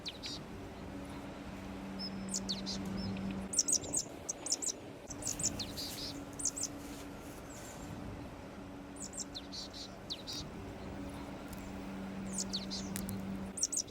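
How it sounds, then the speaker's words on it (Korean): Scattered high bird chirps and short calls in winter woods over a quiet outdoor background, with a low steady hum underneath. "가만히 듣다가 새소리가 들려오는 쪽을 바라보면 어김없이 새를 발견할 수 있지요"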